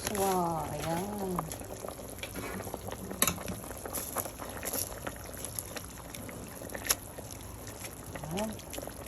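Broth for misua with sardines bubbles at a steady boil in a pot, a soft continuous hiss and burble with a few clinks, while a person speaks over it at times.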